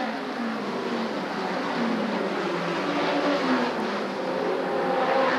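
Midget race cars at Oswego race together in a steady, continuous engine drone. The roar stays loud and busy for the whole stretch with no talk over it, suggesting a pack of cars running around the track.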